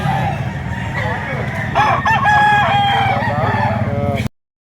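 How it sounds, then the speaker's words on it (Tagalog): Several roosters crow loudly one after another, overlapping near and far, over a constant hum of background chatter and farm noise, ending abruptly. "napakaraming manok"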